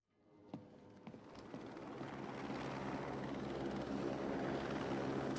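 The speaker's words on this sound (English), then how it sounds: "Oh, well, hello, the helicopter." A helicopter in the Batman Arkham City video game swells from a few clicks into a loud, steady rotor and engine roar that holds and builds, with no one speaking.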